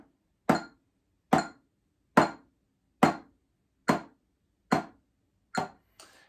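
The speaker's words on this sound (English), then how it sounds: "This metronome gives us our tempo." A metronome clicks eight sharp, evenly spaced ticks at a steady quarter-note pulse, each crisp, woody and close against near silence.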